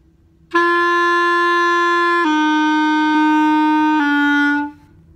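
Solo clarinet playing one continuous breath that slurs through three descending notes without separate attacks, sustained and clear up close.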